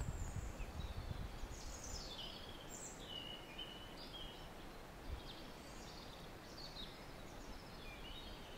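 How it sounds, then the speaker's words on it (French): Birds sing along a forest path in spring, with scattered bright chirps and short trills from several directions over a soft, steady outdoor background. "simplement, écoutez le chant des oiseaux."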